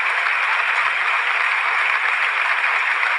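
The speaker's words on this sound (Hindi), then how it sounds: "एक बार पुनः तालियों की बौछार गड़गड़ाहट होती है।" A large crowd at a 1949 speech by Dr. Ambedkar breaks into sustained, thunderous applause, a dense, unbroken roar of clapping on an old recording that holds steady before stopping abruptly.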